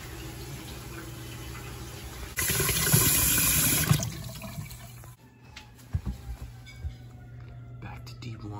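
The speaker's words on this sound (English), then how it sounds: "Let me run the hot water." Hot water tap running in a boiler room, a brief rush of flowing water that cuts off after a second or so, with machinery hum and faint clunks around it.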